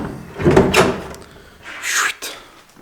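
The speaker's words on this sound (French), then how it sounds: "et maintenant, si on prend cette petite porte" A small door in an empty top-floor space of a house under renovation is opened, giving a wooden scrape and creak followed by a second brighter swish and a knock, close and echoing.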